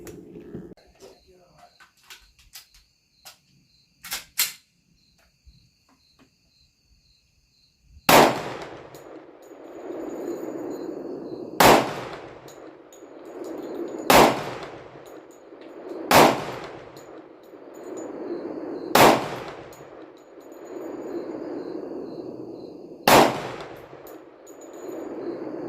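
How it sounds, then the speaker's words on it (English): An FN 510 Tactical pistol fires at a shooting range, with sharp, loud reports spaced a few seconds apart and each followed by a short echoing decay. Faint earlier clatter and voices come before the shots. "first 5 shots with the FN510 Tactical"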